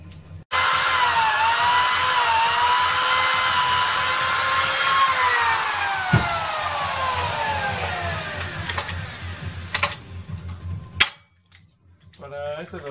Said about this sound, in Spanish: Para este remache del número 56 estamos usando lo que es la broca, la 1164.